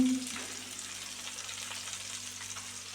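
A fish curry gravy bubbling and sizzling steadily in a pot as fish is added, a continuous close simmering hiss with faint stirring, no talking.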